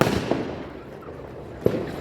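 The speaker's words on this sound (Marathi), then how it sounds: "इथे का अचानक मध्ये फटाके वगैरे फुटत होते" Firecrackers bursting outdoors: two sharp, fairly distant bangs about a second and a half apart over a background murmur, no speech.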